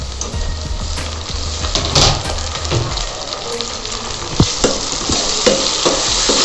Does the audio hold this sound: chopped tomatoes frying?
yes